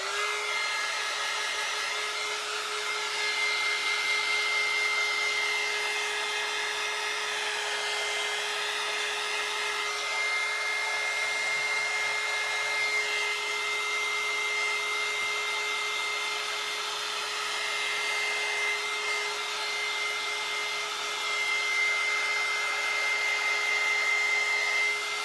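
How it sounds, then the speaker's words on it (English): A hot air gun blows on a scrapbook paper tumbler, a constant whining, airy hum with a steady tone that holds unbroken and fairly close for about twenty-five seconds, with no talking. "I'm going to take my hot air gun and I'm just going to blow on it"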